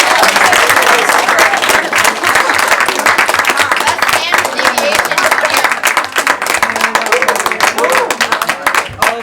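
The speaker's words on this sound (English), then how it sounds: "Another round of applause for all of our competitors today" An audience at a 3x3 speedcubing final gives loud, dense applause that stays strong from start to finish, with voices and cheers mixed in.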